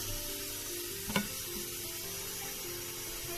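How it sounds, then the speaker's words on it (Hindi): Whole dried spices (black pepper, fennel, mustard seed and cumin) crackle and sizzle in hot oil in a kadai, a steady close frying hiss with a small pop partway through and no talk. "अब मसाला ये तड़क गया है"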